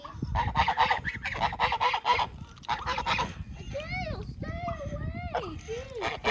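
Geese honk repeatedly in short nasal calls, fairly close, with a noisy outdoor background; a brief child-like voice may be mixed in.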